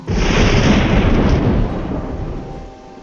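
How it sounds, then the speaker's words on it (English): A midnight thunderstorm roars with a loud, heavy rumble of thunder and dense rushing noise of rain and raging wind, fading gradually toward the end. "The rain pelts the windows like falling stones, and the wind rages on as the chapel doors tremble."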